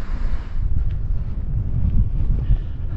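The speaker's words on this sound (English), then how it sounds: "We're getting windier, we're getting windier." Strong wind gusting across an exposed coastal clifftop on the Jurassic Coast, buffeting the microphone in a continuous low, rumbling roar with no voices.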